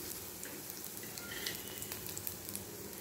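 Chopped ridge gourd and other chutney ingredients sauté in oil in a pan, making a quiet, steady crackling sizzle with scattered soft pops throughout.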